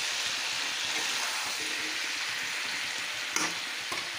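Raw plantain with turmeric and salt frying in a pan, a steady close sizzle with scraping stirs and a couple of sharper knocks, no talk.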